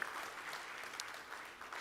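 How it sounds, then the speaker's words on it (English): An audience applauds at the FICCI Frames 2023 inaugural session: steady, dense clapping fills the whole short stretch at an even level. "Ladies and gentlemen, big round of applause."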